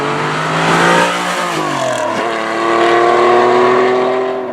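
A rare imported TVR Tuscan sports car revs its engine up close and loud in two rising, surging swells, with the pitch climbing and falling between them. No one speaks.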